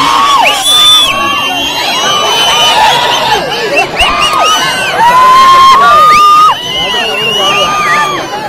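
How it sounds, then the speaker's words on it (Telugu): Spectators at a village kabaddi game shout, whoop and cheer together in a loud, dense, continuous roar, with children's high shrieks and overlapping voices rising and falling throughout. "ఇక చూసే తందుకు వచ్చిన జనం ఒక్కటే అరసుడు"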